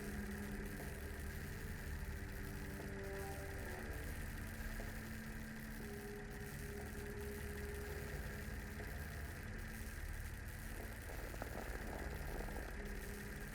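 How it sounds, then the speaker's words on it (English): Diesel generators running inside a shed in a video game, a steady low mechanical drone with humming tones and faint vibration, continuous and even throughout without any pauses. "Judging by the engine noise and the smell, there are diesel generators in this shed."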